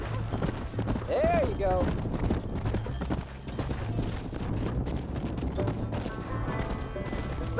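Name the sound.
horse hooves clip-clopping, from the video game Red Dead Redemption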